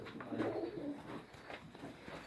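Soft, low pigeon coos murmur through a steady outdoor hum, several birds cooing faintly and continuously with no talking.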